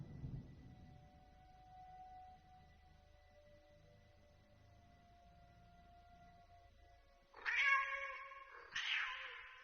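Two loud, close cat meows near the end of a radio drama scene, each a drawn-out wavering cry following a long stretch of quiet humming background.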